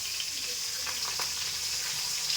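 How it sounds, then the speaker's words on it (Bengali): Steady crackling sizzle of large stinging catfish (shingi) frying, muffled under a lid, with faint clatter now and then; no voices. "ঢাকনা দিয়ে মাছ ভাজা হচ্ছে"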